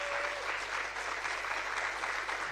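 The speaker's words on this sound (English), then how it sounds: "Give them a round of applause." A crowd applauds at a Wisconsin State Fair recognition, dense, even clapping that holds steady throughout, moderately loud, with no voice over it.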